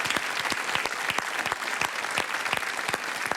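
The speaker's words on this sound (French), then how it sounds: "les applaudissements du public." A TV studio audience applauds steadily and fairly close, a dense patter of many hands clapping with a few louder individual claps standing out.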